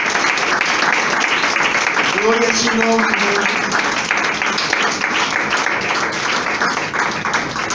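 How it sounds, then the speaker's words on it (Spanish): Church congregation applauding loudly and steadily throughout, a dense wash of clapping with a voice speaking briefly over it. "Un fuerte aplauso al Señor"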